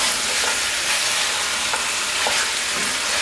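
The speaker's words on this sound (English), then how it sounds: "you can still hear that sizzle going on, which is sort of searing the goat all nice and thin" Pieces of goat coated in curry base sizzle in a hot pot over high heat. It is a steady, dense frying hiss with a few faint stirring scrapes, close up and with no talking.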